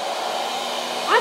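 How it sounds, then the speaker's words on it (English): An old hair dryer blows steadily while grooming a big chimp, a continuous close airy whoosh with a slight rise in pitch near the end. "Let's dry him off with a hairdryer"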